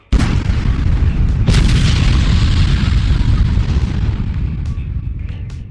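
Explosion sound effects for a comedy sketch: a sudden loud boom followed by a long rumbling, crackling roar that slowly fades over several seconds.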